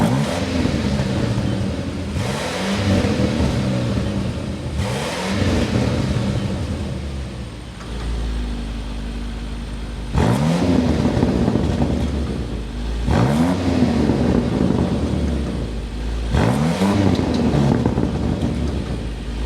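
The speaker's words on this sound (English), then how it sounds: "this is a V8 twin turbo. We need to go inside, start it up so you can hear that exhaust note" The twin-turbo V8 of a 2025 Range Rover Sport SV revs repeatedly, each burst of deep exhaust rising and falling, with a brief idle lull between the roaring pulls.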